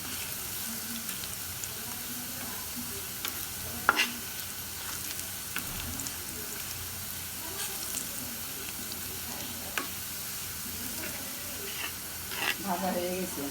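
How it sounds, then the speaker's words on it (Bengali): Onions fry in a pan for a rural mixed-greens dish, a faint, even sizzle with occasional soft clinks of stirring, heard quietly with some low background voices. "আমার পেঁয়াজ ভাজা হয়ে যাচ্ছে, আর একটু লাল লাল হবে।"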